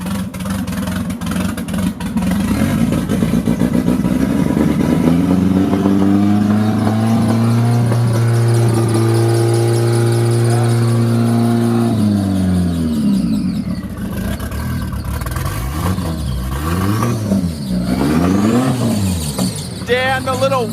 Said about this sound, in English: Damn, the little work truck sounds this mean?